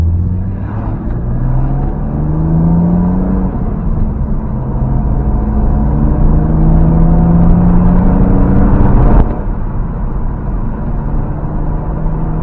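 BMW Z3 M Coupe engine pulling hard through rising revs with two upshifts, loud and close from inside the car, then cutting off sharply to a lower drone near the end.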